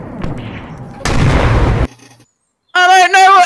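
Mortar artillery fire in a video game booms in loud, close bursts, followed by a short quiet gap and then a raised voice.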